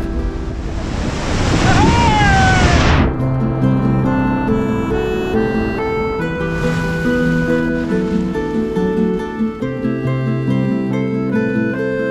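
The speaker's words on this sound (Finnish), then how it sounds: "Nyt tulee iso aalto!" A big wave crashes over a log raft on the Iijoki river, a loud roaring surge of water and spray lasting a few seconds. It then gives way to quieter wind and water with background music.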